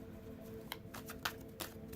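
Tarot cards being shuffled by hand, giving soft riffling bursts in quick succession, close up and quiet over a steady low room hum.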